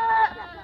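A goat gives a single short, close bleat, loud at first and trailing off within a second.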